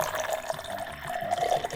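Water running from a tap in a quiet, empty apartment, a steady trickling stream with light splashes, close and fairly soft, heard alone.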